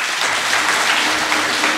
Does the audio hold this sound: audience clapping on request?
yes